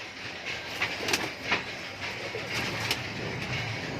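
High flyer pigeons in a loft coo and flutter steadily throughout, with soft wingbeats and scattered calls over a constant rustling background and no speech.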